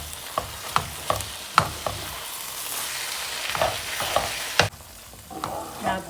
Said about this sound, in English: I'm just adding a handful of chopped coriander to this and give it a good mix.